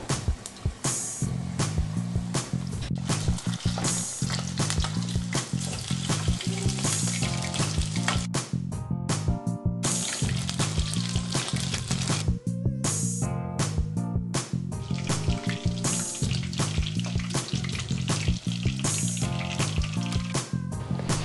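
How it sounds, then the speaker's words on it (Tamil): Chicken pieces frying in oil in a pan on medium flame for orange chicken, a continuous hiss and crackle that runs under steady tonal background music. "ஒரு வாணலியில் தேவையான அளவு எண்ணெய் ஊற்றி சிக்கனை வறுத்து எடுத்துக்கோங்க."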